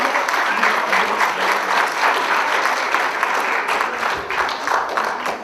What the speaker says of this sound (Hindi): बहुत जोरदार तालियों से इनका स्वागत कीजिए।